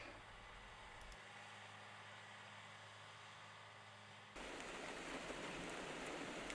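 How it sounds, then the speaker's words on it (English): Continuous hiss of heavy rain pouring down, steady throughout and growing louder and denser partway through, with no voices. "It's May 6th, and it's pouring down raining."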